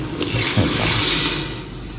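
Water is poured into a pot of mutton pulao with cooked meat, tomato, onion and salt, a loud close rushing gush lasting about two seconds before tapering off.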